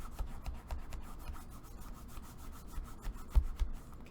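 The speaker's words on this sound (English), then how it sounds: "Wrap it around and burnish." A tool burnishes paper wrapped around the side of a craft box, making quick, dry rubbing strokes in a steady rhythm, close and fairly soft, with a couple of small knocks near the end.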